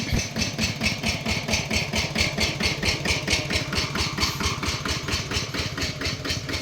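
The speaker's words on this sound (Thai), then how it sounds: "สโลนิ่งครับ ออกตัวดี" A motorcycle engine idles close by, a steady, even chugging pulse that holds without pause under no speech.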